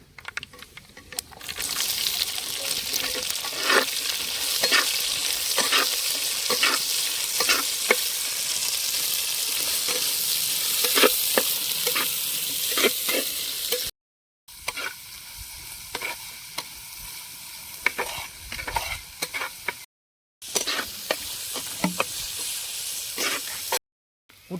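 Onion frying in a pan with fennel seeds while a cook stirs it, a steady sizzle with repeated scraping taps from the spoon, broken by two brief silences.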